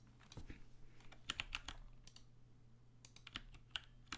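Rapid keystrokes clatter on a computer keyboard in irregular bursts, fairly close and crisp, with sharper clicks standing out over a steady low electrical hum and no talking.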